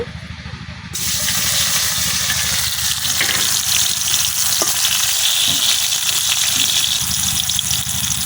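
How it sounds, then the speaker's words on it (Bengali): Tomatoes dropped into hot oil for a cauliflower bharta, bursting into a loud, dense, continuous sizzle after a brief quieter moment, close and steady with a faint stir partway. "তেলের মধ্যে টমেটোগুলো দিয়ে দিতেছি"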